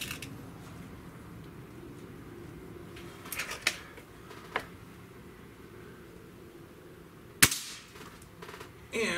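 Shots from a Gamo Hunter Extreme PRO air rifle: a few sharp, short cracks stand out against a quiet outdoor background, with one louder snap near the end.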